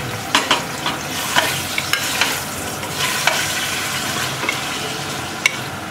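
Yogurt-marinated chicken pieces frying in a pan, with a steady sizzle and scattered sharp clicks and scrapes as they are stirred, close and fairly loud, without talking.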